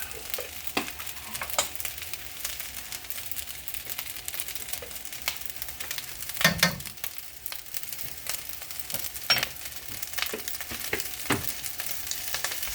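Vegetable stir fry sizzles steadily in oil, with a big metal spoon scraping and clanking against the pan at irregular intervals, a louder stir bursting midway; no talking.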